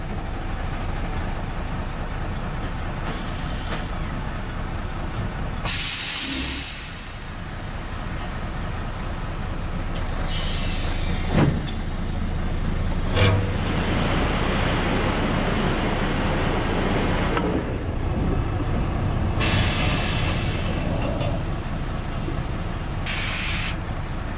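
Truck hauling a special transport pulls away: broad engine rumble and hiss with bursts of air release, building and sustained over about 24 seconds, moderately loud and close at first.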